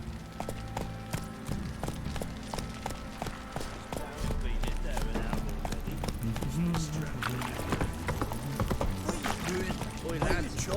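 Horse hooves gallop in The Witcher 3 open world, a steady fast clip-clop running throughout under ongoing game ambience and music, with voices talking over it.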